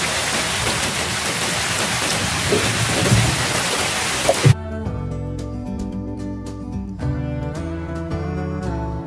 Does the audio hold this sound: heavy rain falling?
yes